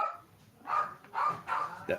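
A dog barks a few times somewhere in the background of a live show, the short barks spaced out and faint beneath quiet talk.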